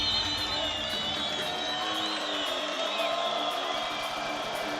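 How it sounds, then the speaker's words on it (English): Large arena crowd cheering and roaring steadily throughout at a PUBG Mobile Global Championship grand final, with a dense continuous wash of voices and no clear individual speech. "you can hear the crowd doing all the talking for me"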